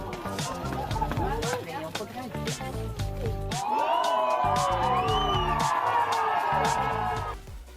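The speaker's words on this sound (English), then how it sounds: "The cheers of the crowd in the background accurately describe the sensations of what they saw" Spectators cheer and whoop at a synchronized ski trick, excited voices and shouts rising and swelling toward the middle and continuing for several seconds, mixed with a busy wash of background noise.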